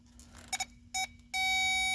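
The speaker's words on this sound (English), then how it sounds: "I'm getting a beep when I wiggle it" Electronic beeps from a Honda CR-V while its ignition coil wiring is wiggled during a misfire fault check: two short chirps, a brief tone, then a sustained steady beep, close and clear over a low hum.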